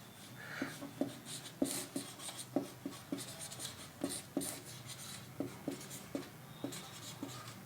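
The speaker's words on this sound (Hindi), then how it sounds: "यहाँ पे मैं लिख देता हूँ ये मिट गया है" Chalk or marker strokes on a classroom board during a lecture, a quiet run of rhythmic taps and short scrapes repeating steadily with no talking.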